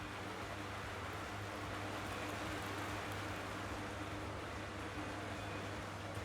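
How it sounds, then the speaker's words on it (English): Steady, soft hiss of rain falling continuously, even and unchanging throughout, with no voices. "it's currently raining on set"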